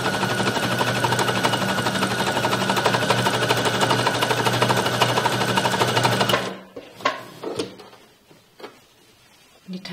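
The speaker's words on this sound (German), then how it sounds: "lass die Nadel unten stecken, hebe das Füßchen und nähe die Tasche rundherum fest" A sewing machine stitching a pocket onto a pair of trousers, a loud, fast, steady mechanical rattle for about six seconds that stops abruptly, followed by quiet clicks and handling noises.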